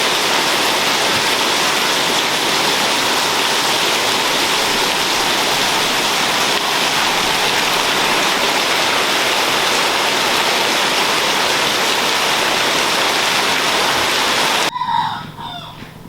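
Steady heavy rain pours down onto a front porch, a dense continuous hiss with rooster-like calls faint in the background, ending abruptly near the close.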